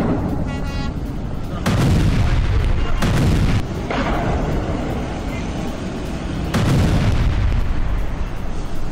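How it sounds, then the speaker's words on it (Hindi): Missile strike explosions, several heavy booming blasts in quick succession, each a loud broadband burst with a rumbling tail, over a constant low roar. "देखिए, चारों तरफ आग लगी हुई है, जोरदार धमाका होता है।"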